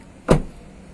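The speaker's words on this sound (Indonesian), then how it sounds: "Pasti membanting agak keras karena memang pintu daripada mobil ini karetnya cukup tebal" A single solid door thud from a 2020 Mitsubishi Triton Exceed pickup with thick door rubber seals, close and fairly loud, with a short dull ring afterward in an otherwise quiet space.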